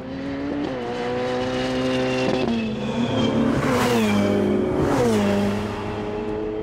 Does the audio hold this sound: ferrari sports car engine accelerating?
yes